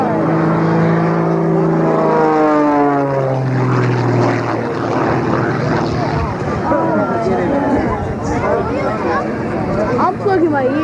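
Loud, sustained roar of a powerful propeller aircraft engine at a 1994 Rhode Island Air National Guard air show, with rising and falling tonal whine and shifting pitch as it runs close by, people talking underneath.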